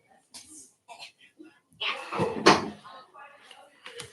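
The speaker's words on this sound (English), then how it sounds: "Close the door for me, Zane." A door swings shut indoors with a single thud partway through, surrounded by casual talk and greetings between people in the room.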